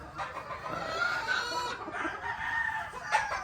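Roundhead brood fowl chickens cluck and crow at close range. A couple of drawn-out crows rise over a steady clucking background, with no talk.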